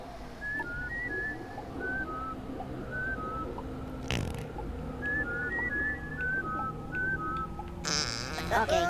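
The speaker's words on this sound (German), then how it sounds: "Und dann hätte man während diesen links-rechts-Rollen das Passwort pfeifen müssen." Whistled password melody in Oddworld: New 'n' Tasty, a run of short, bright two- and three-note whistle phrases repeating over a steady game background hum, with a brief thump midway and a louder burst of noise at the end.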